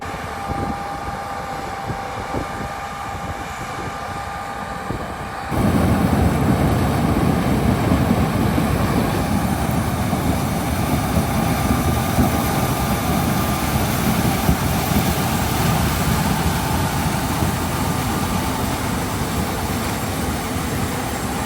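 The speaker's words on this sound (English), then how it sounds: "I guess it's a grain cart that's hooked up to a tractor." A loud, steady tractor engine drone with broad rumbling noise, rising sharply after a few seconds and holding, as the tractor pulls a grain cart close by.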